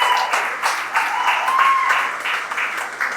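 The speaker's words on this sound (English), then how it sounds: "So a big round of applause" An audience at a candidate forum applauds in a steady wash of clapping lasting about three seconds, with a faint voice underneath.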